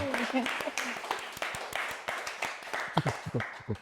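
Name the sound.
applause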